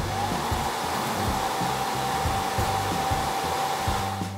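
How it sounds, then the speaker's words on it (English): Fans of an LCT3500 paper feeder whirring steadily at close range, a constant even hum with a faint high whine and no speech. "Press the button once to activate all the fans and move the elevator to process position."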